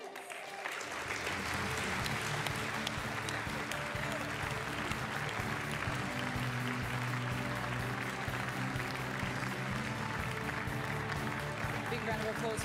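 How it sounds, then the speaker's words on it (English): Crowd at the Australian Cricket Awards 2020 applauds a Young Cricketer of the Year winner, sustained loud clapping filling the room with a steady wash, music or broadcast sound running underneath. "Big round of applause for this lady."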